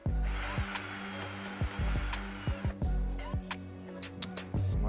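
A power driver with a T25 bit backs screws out of the intake on an Audi B9 S4/S5, running in a steady whir with a brief break partway through, close and loud with no talk over it.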